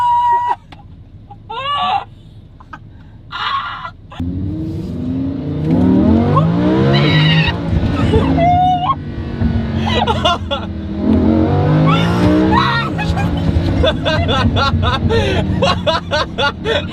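A Lamborghini Huracan drives along, its engine roaring and revving loudly up close from the cabin, while people talk over it throughout.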